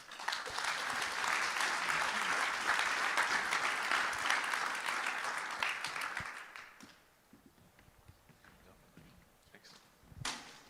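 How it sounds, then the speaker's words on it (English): Audience applause following a talk, loud and sustained for about seven seconds, then fading to scattered claps and room noise with a final brief burst. "Another round of applause, please, for Rob Brinded."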